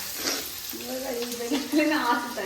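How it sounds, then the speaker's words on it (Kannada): Food sautés in a pan for mutton sambar with a steady, close sizzle and occasional stirring, while someone talks over it. "ಇದನ್ನ ಚೆನ್ನಾಗಿ ಬಾಡಿಸ್ಕೋಬೇಕೀಗ"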